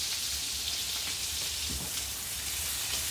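Butter and garlic sizzling in a frying pan for prawns, a steady close crackling hiss with small pops, alone and fairly soft throughout.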